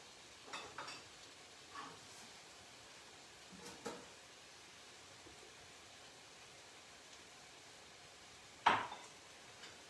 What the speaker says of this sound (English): we are going to saute this for like 10-12 minutes till the eggplants are soft and nice